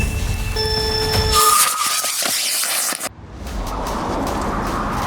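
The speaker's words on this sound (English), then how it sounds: "let's see what happens when I light the rocket" A rocket fires on the roof of a LEGO car during a drag race, giving a loud whooshing, whistling roar with tonal squeals that cuts off abruptly, followed by a softer rushing hiss.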